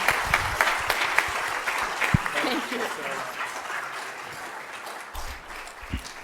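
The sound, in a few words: audience applause for Lily Stockman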